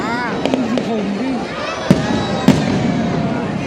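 Fireworks go off at a national day celebration on 2 September 2025, with two sharp bangs standing out over a continuous rumble and crackle while people talk nearby.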